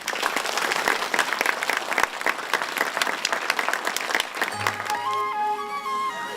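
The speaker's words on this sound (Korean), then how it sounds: "아름다운 화음에 박수가 터져 나옵니다" An audience gives dense, sustained applause after a traditional Korean ensemble plays Arirang, then the clapping gives way to soft music at the end.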